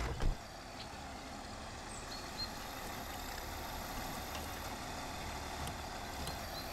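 A tractor engine idles in the Farm Expert 2017 farming video game during field plowing, a steady low rumble that holds evenly throughout, with a small knock at the start and no talking.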